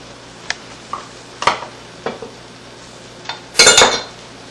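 Flour stirred in a pan for a chicken gravy roux: a handful of sharp metal clinks and scrapes of utensil on pan, close and fairly loud, ending in a longer burst of scraping, with no voices.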